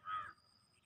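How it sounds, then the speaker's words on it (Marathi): One short, harsh caw from a crow, faint and somewhat distant, followed by quiet outdoor background. "कावळ्यांचा पण कावकाव आवाज येत आहे"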